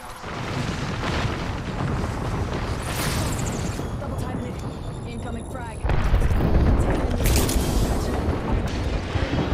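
Artillery strike in an online shooter game, a dense rolling barrage of booming explosions that grows heavier midway, with players talking over the blasts.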